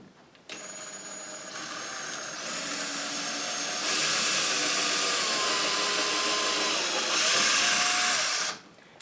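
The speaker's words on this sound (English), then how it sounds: "we're going to put a small pilot hole in here first." Power drill boring a small pilot hole in a closet door, its motor whining up in pitch and holding a steady high drone for several seconds before cutting off.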